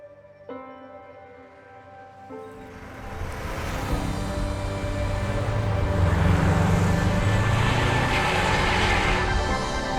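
Subaru Impreza GT Turbo 555 rally-bred road car engine, a loud broadband roar that builds steadily after a few seconds and holds strong to the end, close by with no talking.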